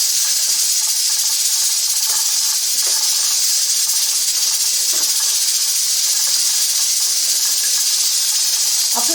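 Ground beef sizzling steadily in a pan for stuffed peppers, a constant bright hiss with soft scraping taps from a meat chopper breaking it into small pieces, close and continuous with no talk.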